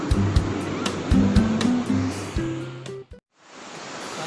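Large ocean waves break at Mutiara beach in the late afternoon, a continuous rushing roar heard beneath someone talking, cutting out briefly near the end before resuming.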